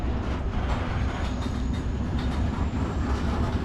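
A cargo train rolls steadily on rails in Turkey, its wheels giving a dense, continuous rumble and clatter close by, with no one talking.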